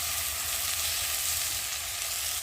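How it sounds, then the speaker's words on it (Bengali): Dried chilli spices and chopped tomato frying in a pan, a dense, loud, steady sizzle running the whole time, heard close with faint stirring and no voices. "আর দিয়ে দেবো টমেটো কুচি, দিয়ে ভালো করে নেড়ে নেব।"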